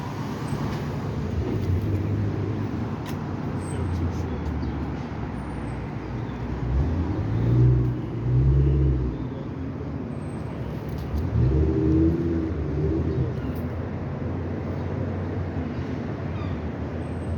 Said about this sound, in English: a lot of cars are trying to merge into one lane